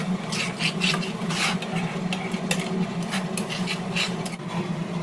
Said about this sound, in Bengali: এবার ভালো করে কষিয়ে নিতে হবে প্রায় 2 মিনিট ধরে।